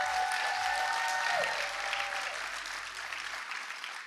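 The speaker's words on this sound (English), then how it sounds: "why don't we give the rest of the church a big round of applause?" A church congregation applauds at a kids' takeover service, steady sustained clapping from a large crowd that fills the room and slowly fades toward the end.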